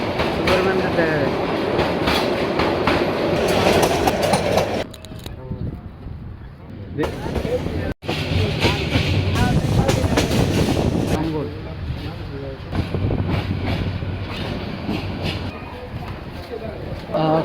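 A train running on rails on a journey to Dhaka toward Kamalapur station, with continuous rumble and rhythmic clickety-clack of the wagons, loud and close, interrupted by a brief dip, with people talking over it at times.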